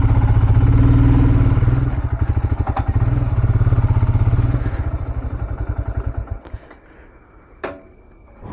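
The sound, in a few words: motorcycle being parked at the roadside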